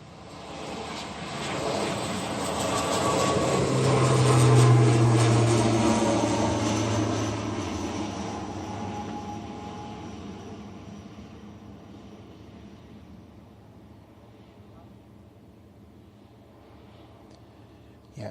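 An airliner departing Bristol Airport swells into a loud, broad jet roar that peaks within a few seconds, then slowly fades into the distance as the aircraft climbs away, with no voices over it.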